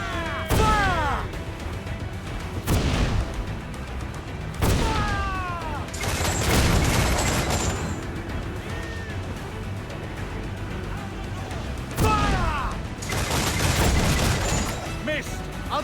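Ship cannons boom in repeated volleys during a naval battle in Assassin's Creed IV: Black Flag, heavy blasts and crashing impacts arriving in clusters, with voices shouting and talking amid the gunfire.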